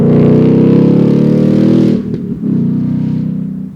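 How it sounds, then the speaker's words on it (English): A loud, close 2023 Ford Mustang Mach 1 engine with the exhaust in track mode drones at a steady pitch with a raspy exhaust note, briefly dips, then picks back up. "Let me just throw this thing in my mode, which I put the exhaust in track mode."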